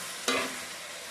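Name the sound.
cauliflower and potato curry being sautéed in a pan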